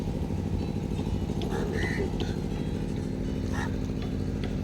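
A diesel engine of a fishing boat at Kasimedu harbour in Chennai idles with a low, steady rumble under close-by speech, with faint harbour noise in the background.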